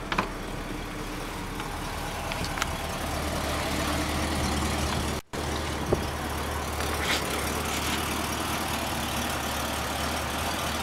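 A 1977 Ford engine with its stock exhaust runs steadily at a quiet, low idle after a cold start, a constant muted rumble throughout with one brief dropout midway.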